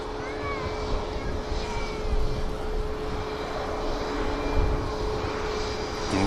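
An airliner taking off from runway 23 left at Manchester Airport, a broad steady engine roar holding throughout, fairly distant, with occasional faint background voices.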